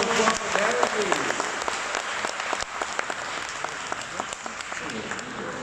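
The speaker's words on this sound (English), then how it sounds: "Give a one more round of applause for Darren, please." Sustained audience applause for architecture photographer Darren Soh after a talk and Q&A, a dense, steady wash of many hands clapping that continues for several seconds with no let-up.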